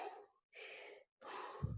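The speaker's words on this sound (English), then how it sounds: "Take a deep breath in." Breathing sounds, close and soft: three airy breaths separated by brief silences, the last ending in a low thump.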